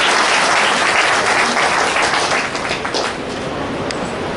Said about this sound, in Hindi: उसके लिए भी ताली आप बजाइए